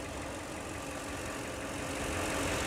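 A Toyota Land Cruiser 100 with its 2LZ-FE V8 engine runs at a steady idle, a dense, even mechanical drone that holds constant and grows slightly louder toward the end, with no voices.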